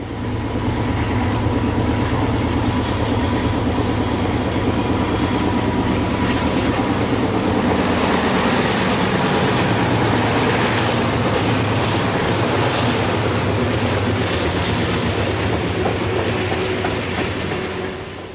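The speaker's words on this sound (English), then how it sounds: "Ed recorded another time freight with two GE C39-8s on the point" A freight train passes close and loud, led by two GE C39-8 diesel locomotives followed by long cars such as a 92-foot Southern Railway hogshead car, with steady wheel rumble, clickety-clack over rail joints and a brief high squeal.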